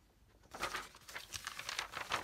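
Vellum sheets with rose gold foil from a planner kit crinkle and rustle as they are handled, a close, crisp run of crackles starting after a quiet half second.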